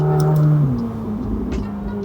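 McLaren 750S Spider sports car on an expressway, its engine note dropping sharply as revs fall after a gear change, then settling into a steady loud drone close by.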